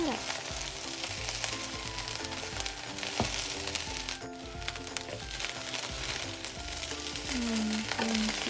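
Eggs cooking and being stirred in a hot pan for fried rice, a constant dense sizzle close by with repeated scraping and clinking of a spoon against the pan throughout.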